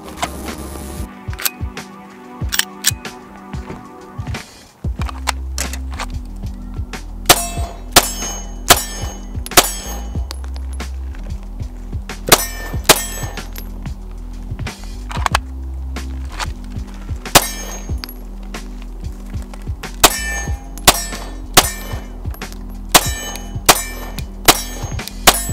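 A Hudson H9 pistol fires through its first magazine, producing a string of loud, sharp reports spaced a second or so apart over steady background rumble, each shot ringing briefly.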